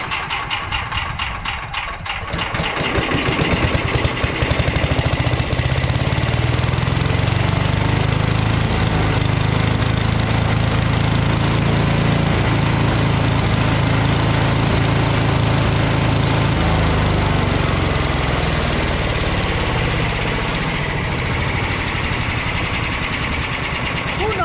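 A Tecumseh 5HP engine on a Troy-Bilt lawn vacuum wood chipper sputters briefly, then catches and runs at a loud, steady, rattling roar close by.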